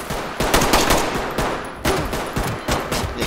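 Gunfire in the tactical shooter Ready Or Not during a gas station raid: loud, close bursts of rapid automatic fire arriving in several clusters with short gaps between them.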